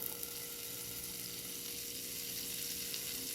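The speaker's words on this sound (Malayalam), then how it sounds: "അപ്പോൾ ആ പാനിന് അടുപ്പത്ത് വെച്ചിട്ടുണ്ട്. അതിലേക്ക് നമുക്ക് കുറച്ച് ബട്ടർ ഇട്ട് കൊടുക്കാം." Butter melting in a pan on a stove gives a close, steady, soft sizzle with a faint crackle throughout and no voices.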